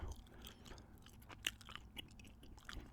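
Close, wet chewing of gum, with moist smacks and small clicks falling in a loose rhythm against a quiet background.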